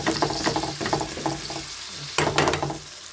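Filipino-style ground meat fries in a pan with a steady, close crackling sizzle and some stirring scrapes that swell briefly near the end.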